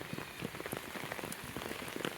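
Rain falls steadily on a farm after a strong wind, a soft continuous patter with many close, distinct drops hitting the surface, faint and without any voices.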